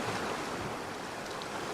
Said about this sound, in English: Alright, here comes a nice wave now.